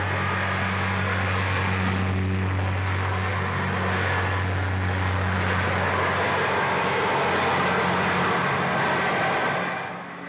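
Airplanes at an airport roar steadily with a low engine drone and a broad rushing hiss, loud and continuous before easing off at the end.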